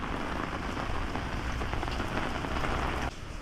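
Steady rain pours down at a hill resort in Kakkadampoyil, a dense, continuous close hiss of drops on surfaces that carries on without pause and softens slightly near the end.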